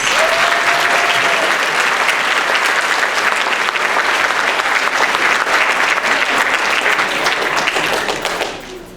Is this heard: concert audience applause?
yes